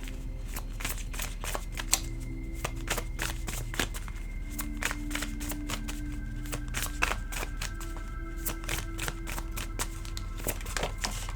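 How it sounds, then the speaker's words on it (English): Oracle cards being shuffled for a tarot reading, a steady run of crisp riffling snaps and soft card slaps, close and quiet, with no talking. "let's pull an oracle card for this"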